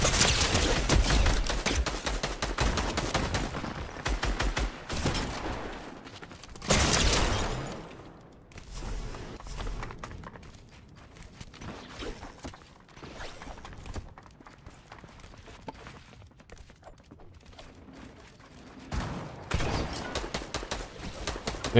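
Rapid video game gunfire crackles in dense bursts, loudest at the start, again in the middle and near the end, with quieter stretches of footsteps and mechanical clatter between.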